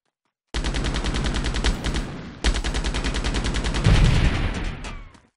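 Enemies shoot back in Delta Force with loud, rapid automatic fire: a fast, even stream of shots that breaks off briefly, then resumes in a long burst before fading out.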